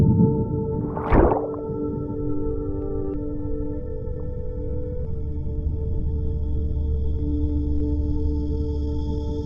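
A whale vocalization in the ocean off Japan rises as one loud, brief moaning call, then the sound settles into long sustained tonal underwater hums over a steady low wash.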